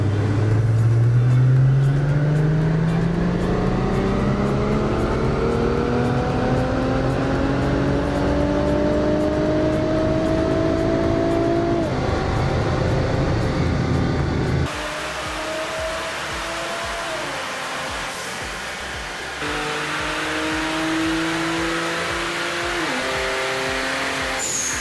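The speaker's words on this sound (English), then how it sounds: "shift the car into the next gear and stay full throttle during that time" A Nissan car with a VR30 engine accelerates hard at full throttle, revs climbing steadily toward a roughly 7,000 RPM redline before each quick gear shift drops them, repeated over several gears, loud and close with no talk.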